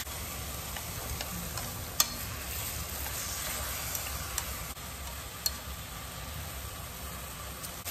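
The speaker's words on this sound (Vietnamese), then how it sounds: "Mình xào cho nó thấm cái thịt vô rồi mình mới để nước vô nha." Pork ribs with salted black beans stir-frying in a pan, giving a steady, close hiss and sizzle. A few sharp clicks from the utensil break through the sizzle. No voices.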